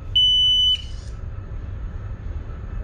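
A marine water ingress system alarm sounding during a test aboard a ship, giving one sharp, steady high electronic beep of about half a second, then a faint start of another, over a low engine-room hum.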